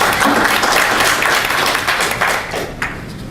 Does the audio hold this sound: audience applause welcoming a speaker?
yes